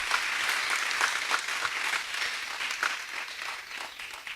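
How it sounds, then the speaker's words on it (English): Steady round of applause from parents and guests at a kindergarten graduation ceremony, a dense, even clatter of many hands continuing throughout at moderate loudness. "let's give them all a big round of applause once again"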